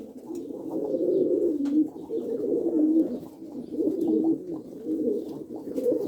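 Four male pigeons coo steadily and close by, soft throaty burbling calls repeating with brief pauses.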